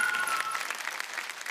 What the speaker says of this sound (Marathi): जोरदार टाळ्या शाकाल काकांसाठी